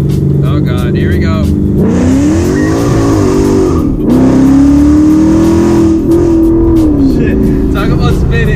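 A car drifting during street driving, tires spinning and squealing while the engine revs high in long sustained wails that rise and dip, loud and close, with people talking over it.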